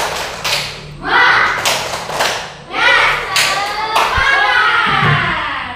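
A group performs the rhythmic 'tepuk semangat' spirit clap, with sharp claps and thumps in bursts alongside chanting voices, close and fairly loud, with a speaking voice between the claps.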